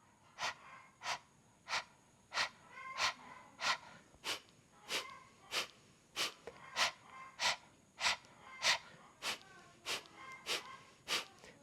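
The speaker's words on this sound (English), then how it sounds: "imagine that you're panting like a dog" Rhythmic, quick breaths like a dog panting, a person exhaling sharply in an even pulse of about two per second, close and clear.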